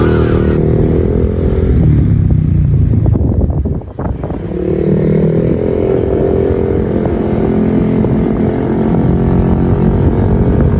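Honda Click 125 scooter fitted with a new aftermarket exhaust, revving loudly and continuously up close, the engine note dipping briefly in the middle before rising again.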